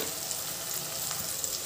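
Capsicum with chili powder, turmeric, coriander powder and salt fries in a pan as a brief, soft, continuous sizzle while being mixed.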